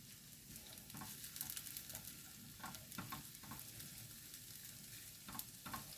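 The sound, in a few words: mushrooms frying in a pan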